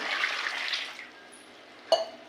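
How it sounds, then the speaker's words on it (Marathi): Three mangoes being washed in water for aamras, with a burst of splashing and sloshing for about a second that fades quieter, then a single sharp knock near the end. "हे आंबे स्वच्छ धुवून घेऊया"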